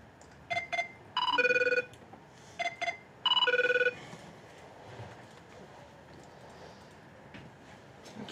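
A telephone rings for an incoming call, two repeating pairs of electronic trill bursts, fairly close and clear over a quiet room.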